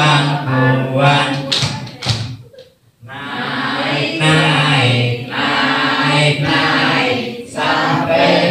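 A group pats their laps while singing a hand-play rhyme at a community health gathering in Sidareja, giving a short cluster of soft thuds and taps under the sung voices.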